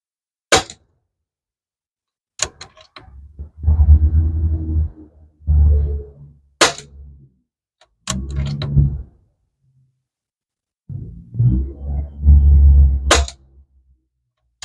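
Pinty P-Force air rifle firing JTS pellets from a rest at 25 yards: several sharp, loud shots spaced a few seconds apart, each followed by low rumbling handling noise, with no talking.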